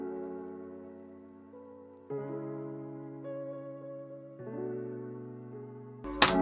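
A 16-bar beat loop made in FL Studio: sustained synth chords shifting through several changes, smooth and mid-level, ending with a sudden bright burst of noise.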